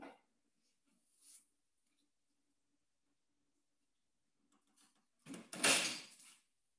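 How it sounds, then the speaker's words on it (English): An indoor door is shut with one near, fairly loud swishing thud after a long quiet stretch broken only by faint rustles. "let me shut the door"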